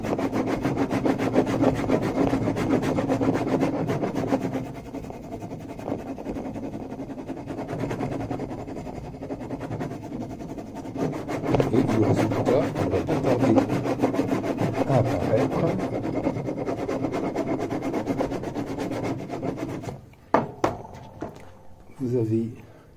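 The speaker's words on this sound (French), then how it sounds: "le lissoir, bien entendu, a des bords arrondis, ce qui permet de bien lisser le cuir." Leather for a glasses case is rubbed smooth with a round-edged burnishing slicker, giving a continuous dry scraping and rubbing with short pauses. A person talks over much of it, and a few sharper knocks come near the end.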